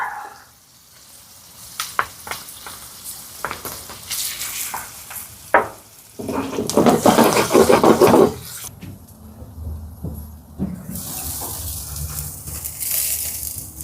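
Garlic fries in a pan for a sausage and rapini hero, an uneven sizzle broken by scrapes and knocks, with a louder crackling burst partway through and quieter gaps between.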